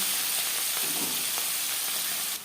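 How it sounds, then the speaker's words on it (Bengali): Small puti fish fry in hot refined oil with a loud, steady, close sizzle and hiss that holds throughout, then drops off sharply near the end. "তিন চামচ রিফাইন্ড অয়েল গরম করে নেওয়ার পর দিয়ে দেবো মাছ"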